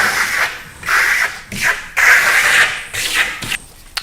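A trowel spreads a FirmoLux plaster base coat in a series of close, rasping scrapes, each stroke a short rough swipe separated by brief pauses.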